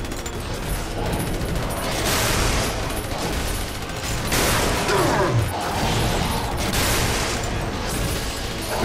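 Automated turrets fire continuously during a Bioshock 2 battle, a dense loud barrage of shots and mechanical clatter with booms swelling and fading across the whole stretch.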